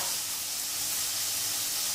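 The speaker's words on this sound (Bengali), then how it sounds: "এটা একটু ভাজা হোক" Ingredients for Thai chicken rice frying in a pan, giving a steady, loud, bright sizzle with no pauses and no voices.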